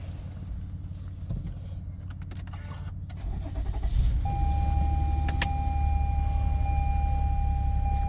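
A car starts up during a snowstorm in New Jersey, its engine catching partway through and settling into a steady, loud idle, with keys jangling just before and a high electrical whine running over the running motor.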